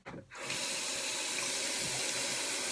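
A sink tap is turned on and runs hot and cold water for rinsing makeup brushes and a beauty blender, a short click then a steady, close hiss of flowing water.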